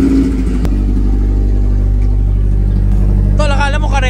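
A 4AGE Redtop engine in an owner-type jeep idles with a deep, steady rumble close by, loud and constant, while people talk over it and a brief whistle-like squeal rises near the end.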